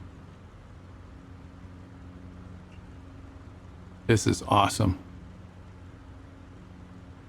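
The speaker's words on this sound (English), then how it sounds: "It's just engine noise, really." A Super Decathlon aerobatic airplane drones steadily in flight, its low engine hum faint and even throughout, with a brief spoken exclamation over it midway.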